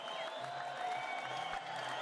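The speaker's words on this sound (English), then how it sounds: "his screams were overpowered by the crowd, who shouted out for blood" An underground palace crowd in the game Sickness roars and shouts for blood, a dense, steady wall of cheering and yelling voices with layered music tones beneath.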